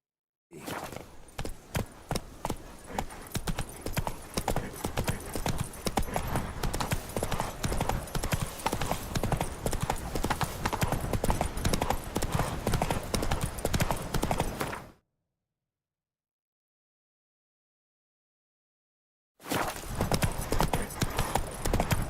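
Roach the horse's hooves clip-clop in a steady, close walking rhythm across ground in The Witcher 3: Blood and Wine, running for a long stretch before a brief silence and then resuming.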